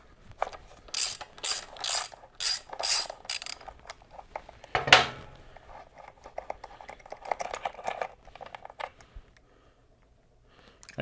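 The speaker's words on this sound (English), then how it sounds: "Now you can take a 9/16 wrench and take the 2 breather bolts out." A 9/16 wrench ratchets out the breather bolts on a Harley-Davidson Sportster airbox, giving a series of quick rhythmic clicking bursts close to the microphone, separated by a single sharp clank and quieter pauses.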